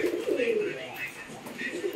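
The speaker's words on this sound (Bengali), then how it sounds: "হ্যাঁ, এটা একটা সিঙ্গেল নর পায়রা।" A single male pigeon coos close by, low soft throaty calls repeating in gentle rolling phrases.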